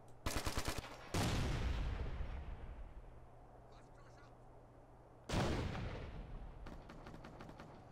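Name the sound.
crossfire gunfire in Ghost Recon: Future Soldier video game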